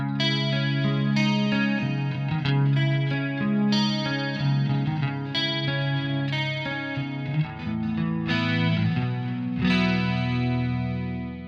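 Electric guitar played through a Kemper amp with a chromatic pitch effect detuned down three steps, producing distorted, chorus-like chords and notes in a loud, rhythmic riff of repeated strums and sustained tones.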